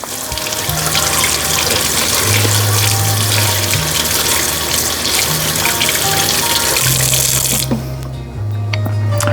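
Tap water runs steadily over peeled boiled eggs in a colander, a loud continuous rushing splash with a low hum wavering underneath, the stream thinning briefly near the end.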